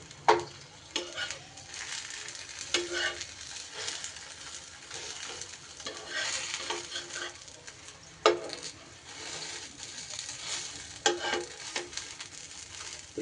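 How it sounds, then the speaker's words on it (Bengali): Semolina snacks frying one by one in a small amount of oil, a steady soft sizzle with occasional louder pops and clinks of a utensil, fairly close and without talk. "এক এক করে সব কটাকেই এইভাবে আমি ভেজে নেব।"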